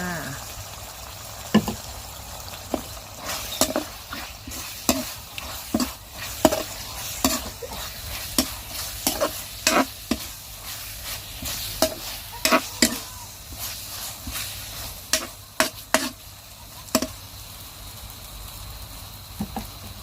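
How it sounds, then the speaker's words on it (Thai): Pork sizzles with curry paste in a hot pan, with repeated sharp scraping stirs of a utensil against the pan at an uneven rhythm. "ใส่หมูที่เราหั่นเตรียมไว้ลงไปผัดกับพริกแกงเลยค่ะ"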